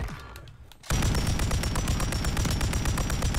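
Rapid automatic gunfire in the video game Warzone bursts in loud and close after a short quieter lead-in, then runs as a dense, steady stream of shots to the end.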